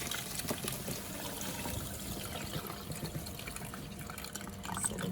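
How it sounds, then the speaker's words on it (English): Demineralised water is poured over dandelions for homemade tea, a faint, steady trickle and splash of liquid running continuously, close by and quiet. "I'll just pour a little bit more of the demineralised water over."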